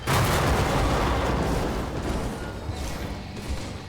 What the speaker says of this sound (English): We're gonna need an airstrike. Missiles are away.